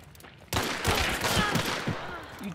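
Pistol and other gunfire from a Hunt: Showdown match, a dense, loud burst of shots and crackling reports starting abruptly after a brief quiet moment and continuing without pause.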